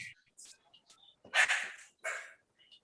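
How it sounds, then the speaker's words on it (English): A small dog yips and barks a few times in short bursts, close by, with quieter sounds between the barks. "Can you hear them barking?"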